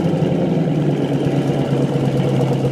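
A GM LS V8 engine with a cross-plane crankshaft running at a steady idle, a loud, deep, burly hum with a continuous low throb and no change in pitch.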